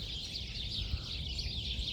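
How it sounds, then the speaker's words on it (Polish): Small birds chirp and tweet steadily at a moderate distance, a continuous bright twittering chorus with no talking. "Ale te ptaki tutaj ćwierkają, co?"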